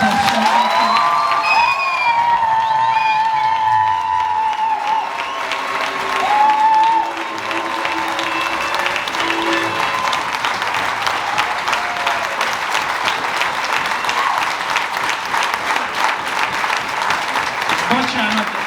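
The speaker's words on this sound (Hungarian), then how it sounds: "Úgyhogy a legnagyobb tapsot." An audience at a folk dance ensemble's anniversary gala bursts into sustained, dense applause with some cheering and whoops, following brief speech from a presenter, the clapping filling the hall steadily to the end.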